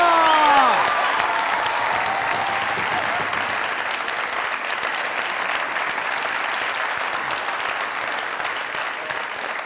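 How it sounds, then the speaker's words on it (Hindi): Steady studio audience applause on a Pakistani comedy talk show, loud and sustained for nearly ten seconds, with a brief tonal sweep at the start and the clapping slowly easing off. "जोरदार तालियां।"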